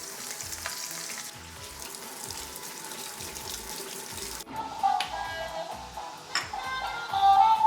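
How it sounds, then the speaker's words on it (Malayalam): Capsicum frying in hot oil, cooked the same way as beef for a restaurant-style dragon beef dish, giving a steady close sizzle with occasional brief clinks and a tap-like rush of water partway through, with no one speaking. "നേരത്തെ ബീഫ് വറുത്ത പോലെ എണ്ണയിലേക്ക് ഇട്ടൊന്ന് വറുത്തെടുക്കുക കേട്ടോ"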